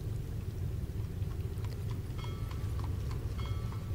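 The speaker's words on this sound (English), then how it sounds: "the occasional horse and carriage that clip-clops past you on the cobble" A horse and carriage clip-clop along a cobblestone road, steady hoofbeats with light metallic rings at a moderate distance over a low rumbling background, with no talking.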